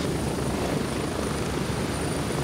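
A helicopter in the Gray Zone Warfare video game roars steadily, a dense continuous rotor and engine wash heard from inside the cabin, loud and unbroken with no talk.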